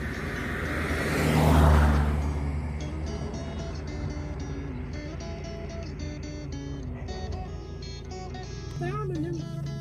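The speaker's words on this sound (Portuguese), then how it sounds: "tá passando o carro" A car drives past on a mountain road in the countryside, a brief swell of road noise that rises and fades in the first seconds, followed by steady outdoor ambience with birdsong and a person talking over it.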